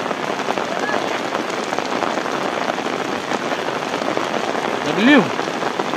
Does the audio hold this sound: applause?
no